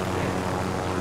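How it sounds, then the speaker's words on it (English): Helicopter flying in the video game Warzone: a loud, steady engine and rotor drone that fills the whole moment without a break, with no voices over it. "I'm waiting for me to get out this helicopter because this shit's too loud"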